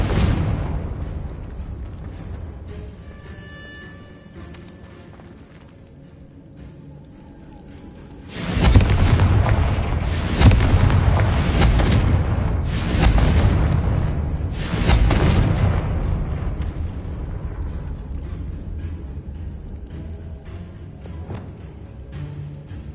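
Fire spell explosions in the video game Hogwarts Legacy: a sudden deep booming blast followed by several more rumbling bursts and crackling whooshes, loud and layered, fading into a lower rumble.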